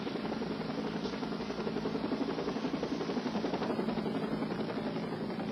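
A police helicopter searching for a suspect thumps steadily with its rotor and a low engine drone, continuous and fairly distant, no voices.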